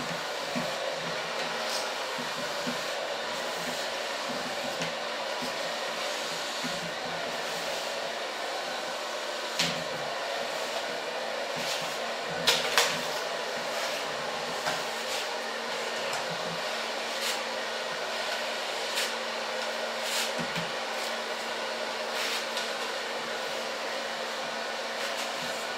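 A hair dryer blows hair dry in a salon, a continuous close whooshing roar with faint clicks and brush rustles throughout, no talk.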